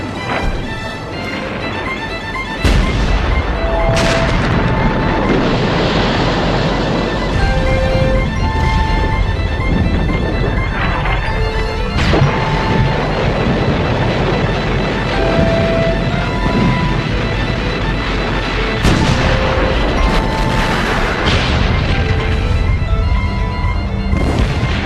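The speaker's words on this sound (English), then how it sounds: "The Germans hit the British with 1 million shells in just 5 hours." A German artillery bombardment of British lines in the 1918 spring offensive: continuous loud rumbling and heavy booming shell blasts with crashing bursts, sustained throughout, with faint tonal music underneath.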